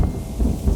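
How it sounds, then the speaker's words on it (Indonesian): Heavy rain pours down in a dense, steady roar with a low rumbling undertone like distant thunder, continuous and loud for under a second. "hujan langsung turun deres banget"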